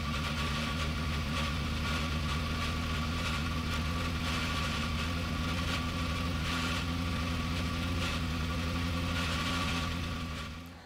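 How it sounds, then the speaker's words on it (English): A race car engine in Gran Turismo Sport, Super Formula car, holding a loud steady drone with sustained harmonics for about ten seconds before dropping off at the end. "now the engine's revving"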